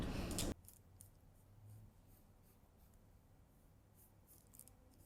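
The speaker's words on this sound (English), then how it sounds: "I'll outline it with a marker pen." A marker pen drawing an outline on a paper sewing pattern, faint soft scratchy strokes running continuously after a brief loud bump at the start, close and quiet with no talk.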